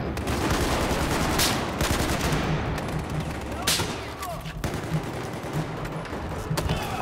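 Gunfire bursts and shots from Battlefield 4 team deathmatch, a dense continuous clatter of weapons with sharper louder cracks near 1.5, 3.7 and 4.6 seconds, busy battlefield noise throughout.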